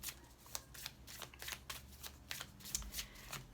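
Oracle cards shuffled by hand during a tarot-style reading, a soft quiet run of riffling flutters and light slaps in an irregular rhythm, close and alone.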